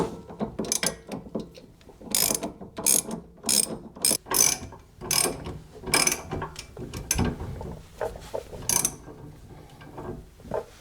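Ratchet wrench cranking bolts tight while installing coilovers on a Pontiac GXP, loud close bursts of rapid clicking pawl strokes separated by short pauses, no talking.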